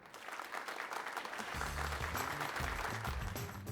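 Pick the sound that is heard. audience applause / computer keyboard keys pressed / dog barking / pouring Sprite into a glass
audience applause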